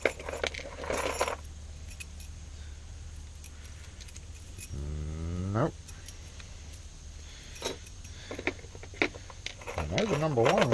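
Small metal lock cylinder pins from an Americanized profile cylinder tipped out in a quick jangling clatter, close and fairly quiet, with a few separate clicks and a brief hum of voice around it.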